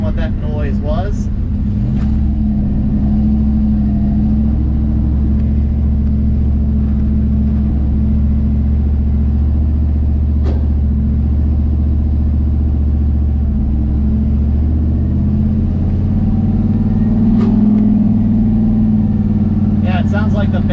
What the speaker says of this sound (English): Sounds like the bearings are out in the turbo.